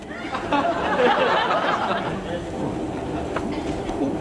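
A train rumbles steadily along the rails with a continuous low roar and faint rhythmic clatter, while muffled voices murmur over it.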